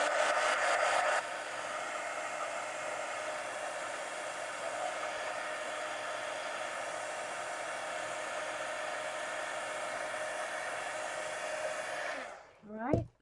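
A hair dryer drying a collage page for a steampunk mini book, blowing in a steady close roar throughout before cutting off abruptly at the end.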